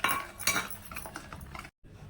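A utensil scrapes and clinks against a bowl as fine semolina is mixed into cake batter, in quick, close strokes that end in a brief silence near the finish.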